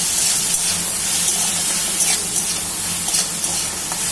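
Peas frying in a pan as they are stirred, giving a loud, steady sizzle and hiss with occasional soft scraping from the stirring, and no one speaking.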